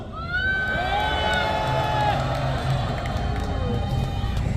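A large crowd at an outdoor candlelight rally in front of Gwanghwamun cheers and shouts loudly and steadily, with whoops and raised voices blending into a continuous roar.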